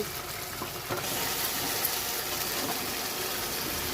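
Catla fish curry simmering with poppy-mustard paste as it is stirred, a steady broadband sizzle with faint scraping, close and continuous, no voices.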